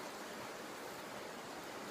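Opal Creek's flowing water at a trail bridge crossing makes a steady, even rush of broadband noise that fills the whole clip without a break.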